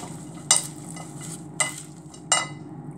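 Fattoush salad tossed with its dressing: three short, crisp stirring scrapes of utensils through the leaves, spaced about a second apart, close and fairly quiet over a low steady background hum.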